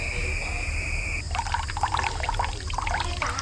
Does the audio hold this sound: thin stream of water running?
yes